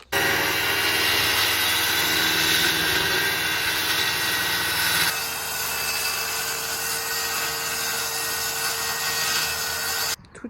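A power saw roars steadily through a wooden board for van furniture for about ten seconds, a loud continuous whine whose tone shifts midway before cutting off.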